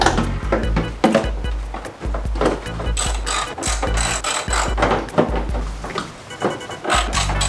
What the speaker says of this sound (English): So now I'm gonna start pulling these headlights out of here.